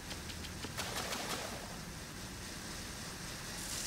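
Swimming through a flooded area in Metal Gear Solid 2 brings a steady, loud wash of water and rushing noise that lasts throughout, with no talk over it.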